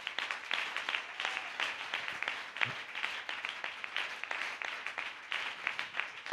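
A church congregation at a Wednesday worship service claps together in steady, sustained applause, heard from a moderate distance and fairly quiet throughout.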